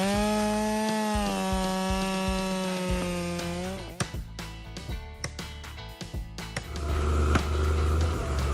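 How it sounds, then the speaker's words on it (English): An MS500i chainsaw felling large trees in mountain terrain: a loud, high, steady engine whine, then a run of sharp cracks and thuds, ending in a lower, rough roar. "the power of the MS500i chainsaw, making felling large trees easier and more efficient than ever."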